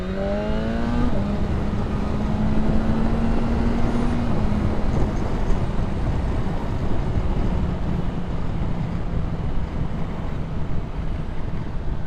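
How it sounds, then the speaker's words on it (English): Loud, constant engine and wind roar from onboard a 2025 BMW M1000R inline-four motorcycle, with a rising whine that shifts pitch early on, then a steady buffeting drone throughout. "So we're now on board the M1000R"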